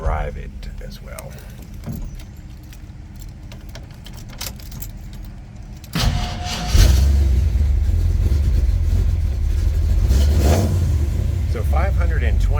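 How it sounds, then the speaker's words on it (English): A 1939 Buick Coupe with 525 miles on its build cranks and fires up, then settles into a steady idle nearby after a stretch of key and cabin rattling. "I'm going to fire it up"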